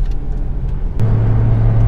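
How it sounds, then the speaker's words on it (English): A Honda Civic Type R FD2's VTEC engine revs cleanly and smoothly, the steady idle rumble jumping to a loud, sustained, even drone about halfway through, close to the car with no talking. "Car revs very cleanly and smoothly."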